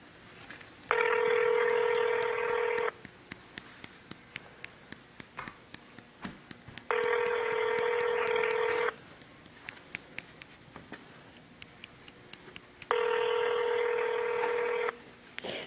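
A phone call ringing out unanswered, three long, loud electronic ringback tones about two seconds each, spaced evenly some four seconds apart, with faint background clicks between them.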